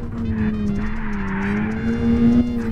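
A drift car in the Apex Point video game holds a steady, loud engine drone at high revs while its tires squeal continuously, with small pitch wobbles throughout and no speech.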